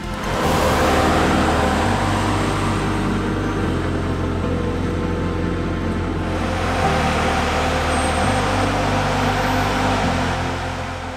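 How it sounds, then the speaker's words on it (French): Farm machinery mowing alfalfa in a field in Brittany, France, a loud steady engine drone that holds evenly throughout, with no talking. "Ici, on fauche de la luzerne."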